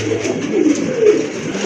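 A huge pair of jet-black Bombay pigeons coo close and loud in steady, throaty rolling bursts, with no talking over them.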